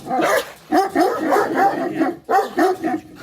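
Close, loud dog barking: a steady run of sharp barks followed by a few more spaced yaps after a short gap.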